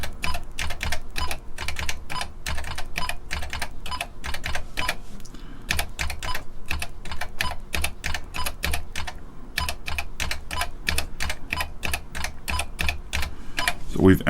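Fingers press keys on the front panel keypad of a Heathkit H8 computer, entering a memory address and byte values: a long run of rapid, crisp clicks in quick irregular bursts, close and clear, with faint background hum.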